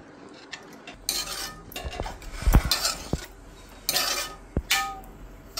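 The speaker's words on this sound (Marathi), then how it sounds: "मी पुन्हा असं परतून घेते" Cooked rajma being stirred in a pot with a spoon, a handful of scattered metallic clinks and scrapes with a few thick, wet stirring swishes in between, close and without talk.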